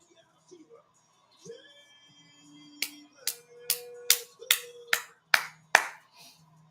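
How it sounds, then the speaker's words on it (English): Arena crowd at the 2025 WNBA All-Star Game, Team Clark vs. Team Collier, breaks into a run of sharp, rhythmic claps, about nine in steady succession, with cheering and murmuring voices beneath and brief talk before it starts. "Listen to that crowd."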